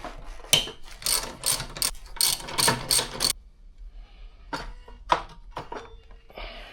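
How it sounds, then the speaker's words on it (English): A ratchet clicks in quick bursts as it loosens the bolts on a Yamaha R1's front brake calipers, a close rapid pawl rattle, then a pause and a few more scattered clicks and clanks. "let's start disassembling the front wheel so we can change the brake discs"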